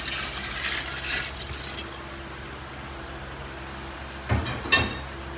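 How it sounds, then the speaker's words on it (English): Water is poured into a hot cooking pot for corn soup, a soft liquid splash near the start, then quiet kitchen background with a couple of sharp sloshes and clunks toward the end. "so go in with some more water"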